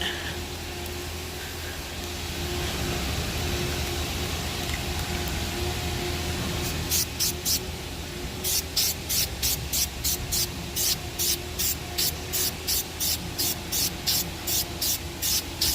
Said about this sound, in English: Time to spray. Shake it good.